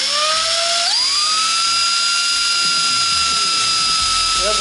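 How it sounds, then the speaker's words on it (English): A drill bores a hole through a Civic Type R rear wing, whining loudly and steadily at high speed, with the pitch climbing sharply as the bit spins up in the first second, then holding nearly constant. "I can drill the hole, and I don't have to worry about the drill wandering around."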